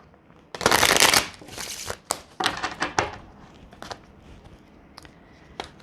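Tarot cards being shuffled close up, a loud riffling burst followed by a series of shorter crisp shuffles and light card taps that trail off.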